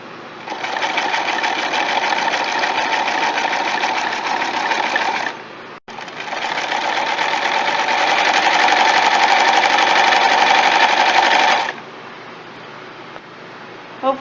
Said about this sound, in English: I'm just going to sew a straight edge on my fold